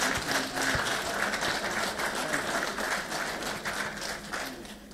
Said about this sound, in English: Can you please give them a resounding round of applause?